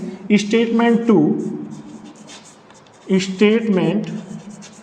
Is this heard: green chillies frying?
no